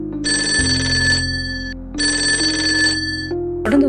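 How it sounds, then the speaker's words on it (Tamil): An incoming telephone call rings in two loud, evenly spaced bursts with a steady electronic tone, close and alone. "அப்போது கரெக்டாக ஒரு ஃபோன் கால் வருது."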